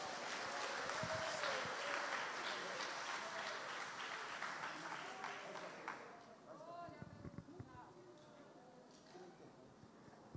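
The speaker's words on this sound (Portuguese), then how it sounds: "Você pode aplaudir ao Senhor nessa noite?" A church congregation claps during a night service, loud and sustained at first, then thinning out into scattered claps and background voices in the second half.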